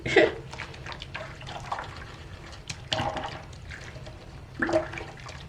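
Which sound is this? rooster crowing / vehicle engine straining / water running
water running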